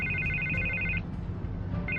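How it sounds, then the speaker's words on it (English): A phone rings in the Batman Telltale video game, repeated electronic ring bursts that stop partway through and then start again over a low background hum. "I can't get the phone to stop ringing"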